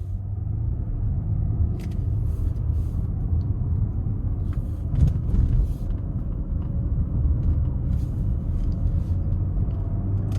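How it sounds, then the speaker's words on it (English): A 2020 Cadillac XT5 Sport drives in all-wheel drive mode, a steady low road and engine rumble heard from inside the cabin with no talk. "Now I have it in the all-wheel drive mode."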